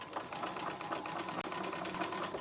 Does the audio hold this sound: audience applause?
no